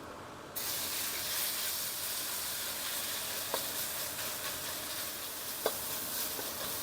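Sliced pork dropped into hot oil in a wok bursts into loud continuous sizzling that carries on steadily, with a couple of sharp clinks of a spatula stirring.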